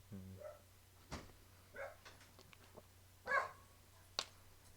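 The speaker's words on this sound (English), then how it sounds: "Dog." A dog gives a few sharp, separate barks and yips with pauses between them, fairly faint and set against a low steady hum indoors.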